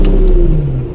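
A Lamborghini LP640 V12 in sport mode with the exhaust valves open revs loudly and close by, a steady engine tone that drops in pitch across a single second of sound.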